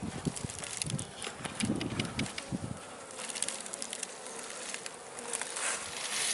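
Honey bees buzz steadily and close during a hive transfer to raise a new queen, a dense continuous drone with bees swirling near and around, alongside a few brief handling knocks early on.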